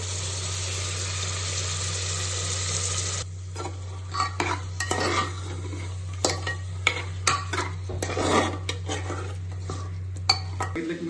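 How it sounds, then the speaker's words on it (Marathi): Turmeric-coated mutton is stir-fried in a pot: first a steady hiss, then a series of sharp metal spoon scrapes and clanks against the pot over a low constant hum, with no speech. "आता यामध्ये आपण ऍड करूयात मटन असंच फ्राय करून घ्यायचं."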